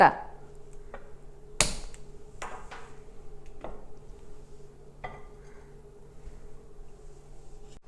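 A clay cooking pot set down on a stove, one sharp clack near the start followed by a few lighter knocks and taps over a low steady hum.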